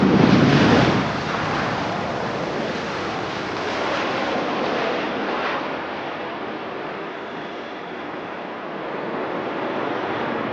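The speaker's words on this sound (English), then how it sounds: "can hear the thunder of its engine" A Sukhoi Su-30MKI fighter jet roars during its takeoff at the Aero India 2025 air show, a broad, rushing engine noise that swells loudly at first and then holds as a steady, distant rumble for around ten seconds.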